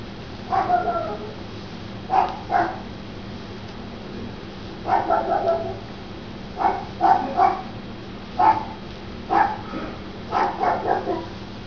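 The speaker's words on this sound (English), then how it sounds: "Please ignore the little rat dog next door barking." A small dog next door barks in short bursts and clusters of yips, fairly distant and moderately loud, repeating irregularly over a quiet steady hum.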